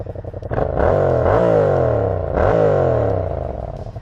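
Close by, a 2017 Yamaha MT-07 on its stock exhaust is revved twice from a lumpy idle, each throttle blip climbing into a throaty growl and falling back, loud and alone.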